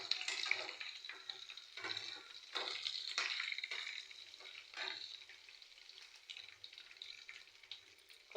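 About five dried red chillies fry in hot oil as a tempering, giving a steady close sizzle with faint bubbling that swells and eases, under quiet kitchen noises and no talk.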